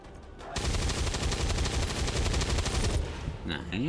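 Rapid automatic gunfire in the XCOM 2 video game rattles as one loud sustained burst for a few seconds, then cuts off into quieter game sounds.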